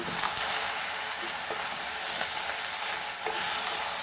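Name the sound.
stirring Goan lady finger jeerem meerem in a pan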